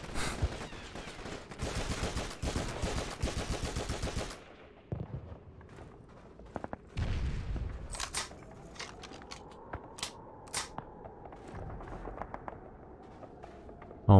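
Rapid automatic gunfire and scattered single rifle shots ring out in a World War II battle in the video game Call of Duty 2, a dense burst of fire at first, then sporadic, echoing shots and clatter.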